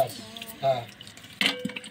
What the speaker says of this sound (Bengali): আর দই মাখানোর পর এবার ওই জলটা ঢেলে দেবে